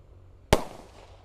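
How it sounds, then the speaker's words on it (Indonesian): A mini circle beats firecracker goes off in the late afternoon with a single sharp, loud bang, followed by a brief decaying tail over faint background. "di sini ada mercon circle beats ukuran mini ya. Kita nyalakan sore ini."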